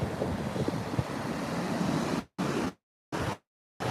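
Ocean waves break on a beach in a continuous, full roar of surf with wind buffeting the microphone, then the sound cuts out abruptly several times, leaving short bursts of surf separated by silence.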